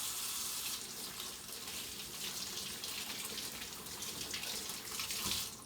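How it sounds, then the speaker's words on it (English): Hands are washed under a running kitchen tap, a steady broad splash of water pouring into the sink throughout, briefly louder near the end. "So I'm gonna go ahead and wash my hands."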